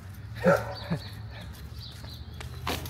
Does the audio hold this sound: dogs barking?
yes